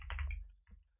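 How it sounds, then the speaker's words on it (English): Brief quiet patter of typing on a computer keyboard, a short cluster of soft key taps fading out after a moment. "already typing it"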